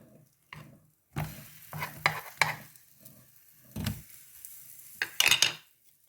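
Ghee sizzling in a pan under a flipped banana-and-honey pancake, with intermittent scraping and clattering bursts of a spatula against the pan over a quiet frying hiss.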